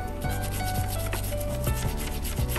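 A brush scrubs a 24 karat gold necklace during cleaning in quick, repeated rubbing strokes that make a close, dry, scratchy sound in an uneven rhythm. A faint tonal hum sits underneath and nobody speaks.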